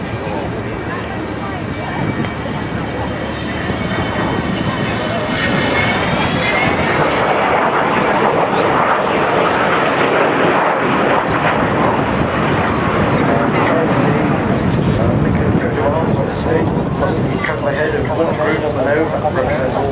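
An Avro Vulcan bomber flies its display at the RAF Waddington airshow with a loud, sustained jet roar. The engine pitch rises and shifts as it passes, while someone speaks over it throughout.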